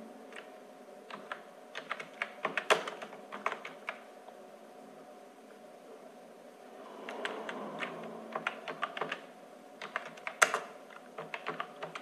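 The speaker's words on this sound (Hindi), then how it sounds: "साधु मुंडा लिख लेते हैं हम लोग और भी हम लोग जो भी नाम लिखना चाहते लिख सकते हैं" Someone typing names on a computer keyboard, with irregular bursts of close, crisp key clicks separated by short pauses and no talk.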